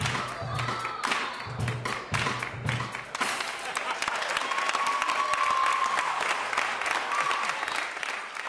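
Audience clapping along in time at a church gathering, with steady rhythmic claps and thumps at first, then a denser, continuous wash of applause with a faint sustained tone above it.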